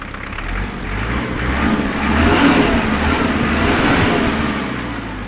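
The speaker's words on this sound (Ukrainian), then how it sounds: "Гарно, впевнено набирає оберти наш двигун." A Kubota GL-368 Japanese mini tractor's diesel engine rumbles steadily, then revs up and holds at higher speed before easing off slightly, close by with no voices.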